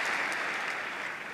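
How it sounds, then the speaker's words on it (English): Audience applause for Queens at an American Israel Public Affairs Committee event, a dense, steady wash of clapping from a crowd that holds throughout without any talk over it. "You can clap for Queens."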